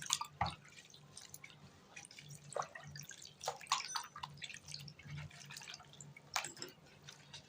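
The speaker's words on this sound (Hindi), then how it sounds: "उनको थोड़ा ऐसे घिस घिस के आप वॉश कर लीजिएगा" Fenugreek leaves rubbed and rinsed by hand in a bowl of water, giving scattered soft splashes, drips and sloshes at close range, quiet and without speech.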